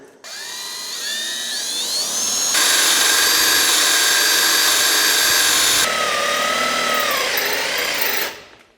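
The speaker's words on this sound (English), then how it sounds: "Gotta make a hole for the wheel to go in." Cordless drill boring a hole for a caster wheel in an old industrial table, loud and close, its whine rising and falling in pitch over several seconds of steady drilling before stopping.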